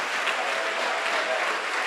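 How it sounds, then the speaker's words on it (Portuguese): A church congregation applauds in a steady, even wash of many hands clapping together, sustained throughout with no voices over it. "eu quero que você dê para esta palavra uma grande salva de palmas"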